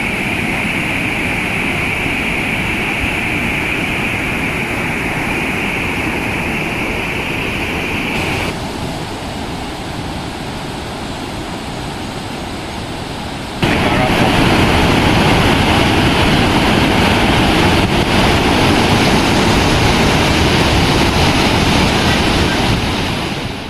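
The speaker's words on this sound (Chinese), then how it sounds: "这是湄公河的 Kon 和 Paping 2个瀑布联合形成的巨大瀑布群" Khone Phapheng, the wide waterfall on the Mekong River in southern Laos, produces a steady, dense roar of rushing water, heard fairly close with some wind buffeting the microphone and a jump in loudness partway through.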